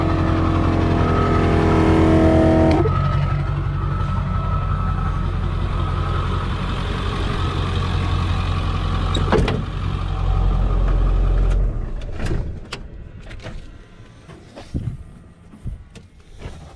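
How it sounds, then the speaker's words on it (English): A steady, loud truck engine idles and rumbles, then cuts off abruptly, leaving a quieter space with scattered clicks and knocks. "let's go ahead and turn off the truck and turn off the compressor"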